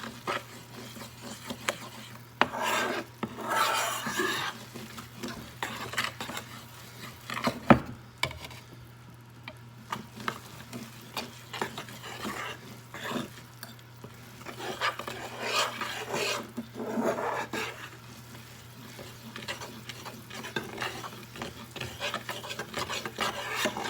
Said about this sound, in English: I'm gonna stir this. Let that flour cook up.